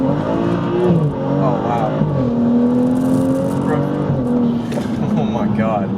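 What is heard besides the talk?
BMW 435i Stage 2 accelerating hard in first gear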